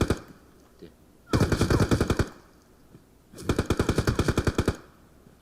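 Two long bursts of rapid automatic gunfire from the video game PUBG Mobile, each lasting about a second, crackle loudly with a fast, even rhythm, separated by quieter pauses.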